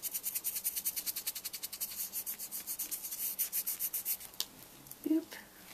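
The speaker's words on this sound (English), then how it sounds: "glitter really doesn't react until you burnish it. And you just do that with your finger." A fingertip burnishing glitter on paper, making rapid rhythmic rubbing strokes close up, a soft scratchy back-and-forth that pauses near the end before a small tap.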